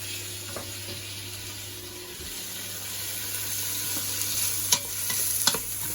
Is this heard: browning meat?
yes